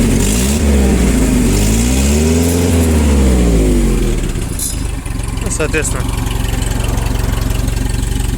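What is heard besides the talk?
forklift engine running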